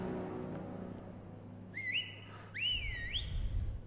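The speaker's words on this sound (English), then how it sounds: "That guy's gonna get shot in the face if he doesn't stop whistling like an asshole." A man whistles in the video game Far Cry 5, two rising, swooping tune phrases, clear and moderately loud over a low rumbling game ambience.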